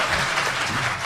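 Audience applause in a lecture hall following a talk on state budget leaks, a brief burst of steady clapping at moderate volume.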